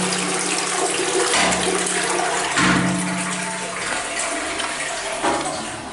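A toilet in good condition flushes in a bathroom being inspected, a steady rushing water noise that holds loud throughout with no voices.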